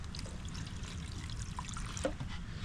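Water trickles and pours into a styrofoam box holding bread and other food for a sick crow, a steady close splashing stream with a small splash near the end.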